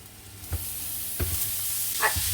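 Minced meat sizzles as it browns in a pan over medium-low heat, with three soft spoon scrapes against the pan and no talk.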